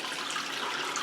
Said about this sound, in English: all the hot liquor or hot water that we have inside the sparge water tank will go through the internal pump, up through the middle and out through the circulation manifold